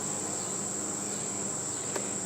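Honey bees buzz during a hive inspection, a steady close hum running through the whole moment with no talk.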